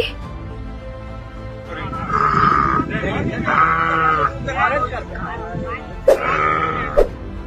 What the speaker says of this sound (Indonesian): Terdengar suara jeritan sapi yang pilu dan emosi, seakan tak rela ditinggalkan